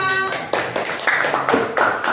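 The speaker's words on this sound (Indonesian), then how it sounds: "tepuk tangan untuk kelompok 2" Classroom clapping for a student group, a short burst of uneven claps from a small group, fairly close, with a voice briefly audible at the start.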